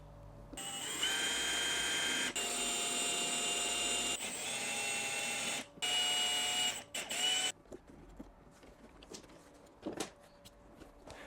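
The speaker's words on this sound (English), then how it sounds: "Now we need to drill out some of these little melted plastic rivets." A drill bores out melted plastic rivets on a salvaged BMW F30 repair, a loud steady whine in close bursts that stops and restarts, followed by quieter handling clicks and taps.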